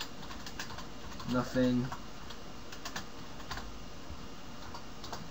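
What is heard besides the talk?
typing on a computer keyboard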